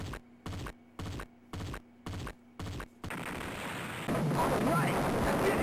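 Explosions and gunfire from a Sega Saturn shooting game: a regular run of short, evenly spaced bursts, then a long, loud, roaring blast that swells and holds to the end, close and without talk.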